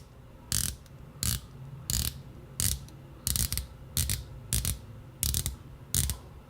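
A rotating bezel on a Winfield watch clicking as it is turned, delivering ten crisp, close ratcheting clicks in a fairly even rhythm with brief quiet gaps between them.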